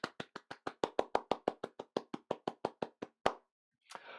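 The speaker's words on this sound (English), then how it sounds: "applause." Crisp, evenly spaced claps, about seventeen in a steady rhythm, then a pause and a brief burst of noise; sounds like one or two people clapping close by, at an online conference round of applause.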